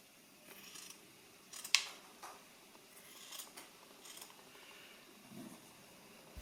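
Scissors notching the corner of a piece of fabric and trimming its seam allowance: soft, close snips and slicing cuts, a few separate cuts spread across a quiet room, one crisper snap standing out.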